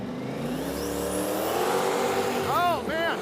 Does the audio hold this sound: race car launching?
yes